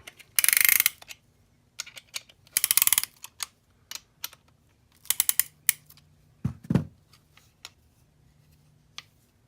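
A hand ratchet cranks over a 1977 Satoh Beaver S-370D tractor's KE70 engine during piston installation, giving short bursts of rapid clicking separated by pauses, close and clear with no talk.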